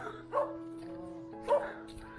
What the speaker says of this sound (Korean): 여기 등산하는 사람들이 저 개가 되게 짖는다고